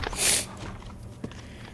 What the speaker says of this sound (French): je suis quand même assez malade parce que là, j'arrête pas de renifler